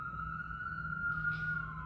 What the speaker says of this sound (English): sorry for the sirens